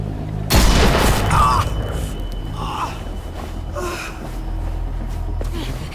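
Gunfire in The Walking Dead game, a loud sudden blast opening the moment, followed by a gasping voice and scattered noises of a tense struggle.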